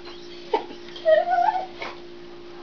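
A puppy whines to be let outside, giving a short yip and then a longer, rising high-pitched whimper, close by in a quiet indoor room with a faint steady hum.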